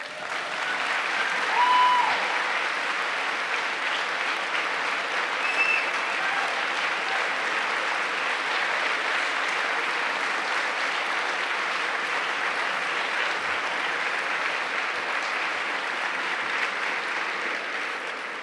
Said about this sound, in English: judging by the round of applause that you just received